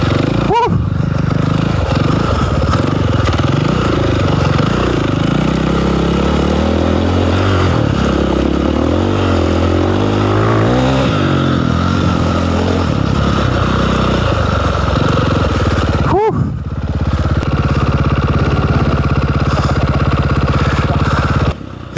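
Several dirt bikes, a Beta Xtrainer 300, Husqvarna FE350, Yamaha WR450 and KTM 530, ride a wilderness trail, engines droning loud and steady with rising and falling revs throughout, and one brief engine pass near the end.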